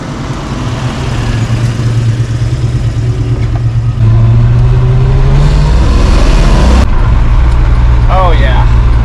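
A car fitted with a Holley Sniper 2 EFI and a TKX transmission pulls away, its engine droning loud and close and rising in pitch as it accelerates, with a voice speaking inside the cabin.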